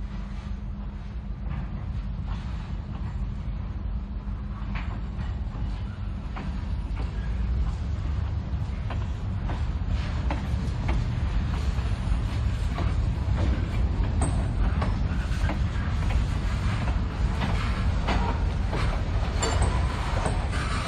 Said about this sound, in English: the crew is going to go ahead and push their train back